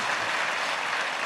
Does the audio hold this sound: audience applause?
yes